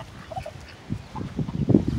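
Soft clucking and low chattering calls from several ducks and Vienna chickens, close by, with a few brief higher notes scattered through.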